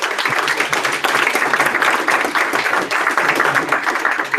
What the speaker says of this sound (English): I would like to round of applause for our three presenters